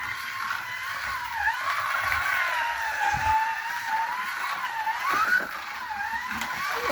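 A decades-old Scalextric Mini 1275GT slot car with new internals runs laps around a track, its small motor giving a steady, close, high-pitched whine that rises and falls as it takes the bends.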